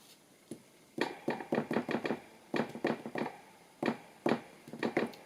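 Sharp knocks and thumps ring out as tags are stamped on a tabletop, arriving in irregular quick clusters with short pauses between, close and fairly quiet, with no talking.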